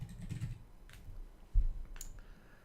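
Keyboard typing on a phone or computer while entering a date into a calendar app, a few soft clicks and taps spaced irregularly, close and quiet, with a low background hum.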